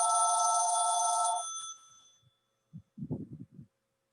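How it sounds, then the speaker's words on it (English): A phone rings loudly at an environmental and social justice candidate forum in Vermont, a steady bell-like trill for about a second and a half that cuts off and fades, followed by a few faint soft thumps in a quiet room. "That was a phone. It was not a timer,"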